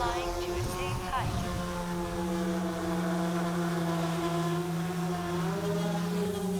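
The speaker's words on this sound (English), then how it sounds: "Auto takeoff. Karma is flying to a safe height." A GoPro Karma drone auto-taking off and climbing, its rotors giving a steady tonal whine with stacked harmonics that bend briefly early on, then hold near and constant, with a synthetic voice prompt over it.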